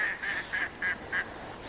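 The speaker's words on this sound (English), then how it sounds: "don't interrupt me, you lot of ducks" Ducks by the water at Pitsford Water reservoir, five evenly spaced nasal quacks or honks in a quick row, moderately near and fairly faint over soft outdoor background.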